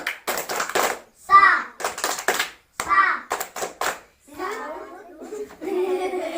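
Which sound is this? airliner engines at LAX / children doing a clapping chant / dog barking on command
children doing a clapping chant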